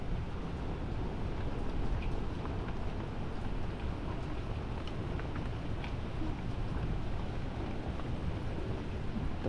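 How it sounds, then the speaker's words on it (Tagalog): Very strong wind over a house in stormy weather, a dense continuous roar with rain-like hiss, broad and steady, no voices. "Sobrang lakas ng hangin."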